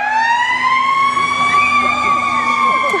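A wailing emergency-vehicle siren sounds close and loud, with a steady horn-like tone beneath its rising and falling sweep, continuous for the whole stretch while a crowd murmurs faintly underneath.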